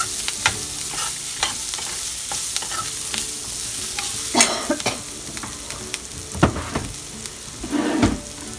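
A turmeric tempering fries in a pan for flattened rice upma, a continuous close sizzle broken by repeated scraping stirs of a utensil against the pan, several louder clanks near the end.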